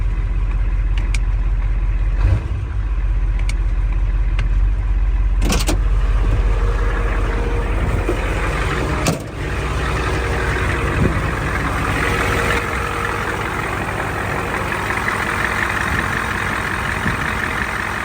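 A 1973 Ford F250 engine idles steadily and loud up close, a deep continuous rumble with a few brief clicks and bumps along the way and a slight dip near the middle.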